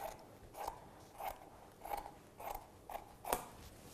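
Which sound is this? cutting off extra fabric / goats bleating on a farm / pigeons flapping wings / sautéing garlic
cutting off extra fabric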